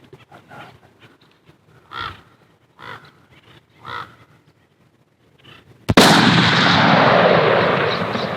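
A single loud rifle shot booms at a wild hog during a New Year's hunt, its long rumbling echo trailing off outdoors after several crow caws in a quiet field.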